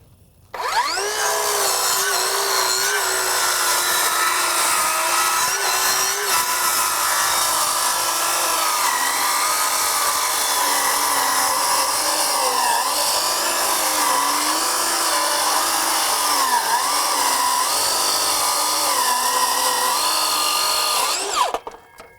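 A Greenworks 24-volt brushless 7-1/4-inch cordless circular saw makes a thin rip cut through wood. The loud, high motor whine runs close and steady for about twenty seconds, with slight shifts in pitch under load, then spins down.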